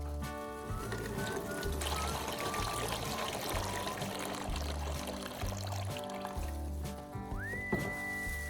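Rinse water pours out of a restored car battery into a container, a steady close trickle and splash running for several seconds under a low background hum.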